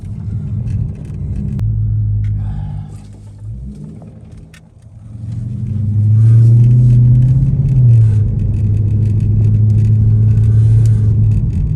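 A Dodge Charger Pursuit rumbles loudly from inside the cabin as it drives and revs, carrying a faint metallic rattle from a loose heat shield or exhaust.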